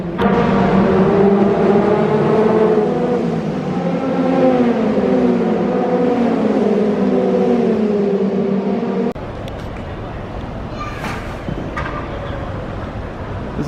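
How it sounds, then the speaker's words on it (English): Grand Prix race cars on a Macau street circuit roar past nearby, engine pitch sweeping up and down for several seconds before the sound cuts to quieter wind-buffeted street noise with faint distant engine whines. "those are the race cars."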